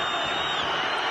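Football stadium crowd at a La Liga match between Mallorca and Real Madrid, a steady broad roar of many voices reacting to a hard tackle, continuous and fairly loud throughout.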